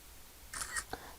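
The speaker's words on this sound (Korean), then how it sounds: "찰칵 이런 사진 찍는 소리가 있죠" A camera shutter sound effect: a couple of quick, faint mechanical clicks close together, soft against a quiet background.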